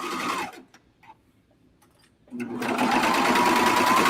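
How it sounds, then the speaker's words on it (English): A sewing machine stitching fabric for wide-leg sweatpants runs in a fast buzzing burst, stops for a couple of seconds with faint clicks, then starts stitching again steadily and loudly. "I see here where I sewed on the sewing machine"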